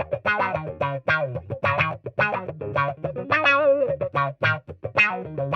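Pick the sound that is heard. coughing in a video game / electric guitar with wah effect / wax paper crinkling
electric guitar with wah effect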